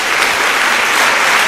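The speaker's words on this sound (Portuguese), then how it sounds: "Dê uma salva de palmas ao Senhor." Church congregation applauding during a Portuguese-language sermon, a dense, steady wash of many hands clapping at close range, continuous and loud for the whole moment with no voices over it.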